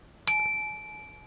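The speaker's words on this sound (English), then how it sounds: "That's the bell of grindfulness." A single bright ding of a small bell struck during coffee grinding for an AeroPress brew, a clear metallic ring that rises suddenly and decays slowly over about a second.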